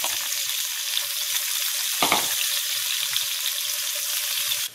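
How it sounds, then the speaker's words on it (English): A quarter onion browns in hot oil and beef short rib drippings, producing a steady, close, hissing sizzle with one brief louder flare in the middle and no talking. "I'm going to brown my onion."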